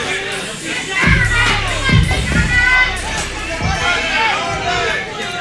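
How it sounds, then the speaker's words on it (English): A wrestling crowd at a women's title tournament reacts against Mia Friday with a loud, rolling murmur of voices and scattered shouts, while a commentator talks over the noise. "Crowd very much not in favor of Miss Friday here tonight"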